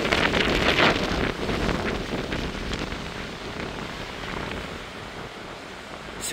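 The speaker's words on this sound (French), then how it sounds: "C'est quoi ces rafales de tarés?" Strong gusts of Storm Herminia roar and buffet the microphone in a dense, loud rush that peaks early then settles into a sustained howl, with no talking.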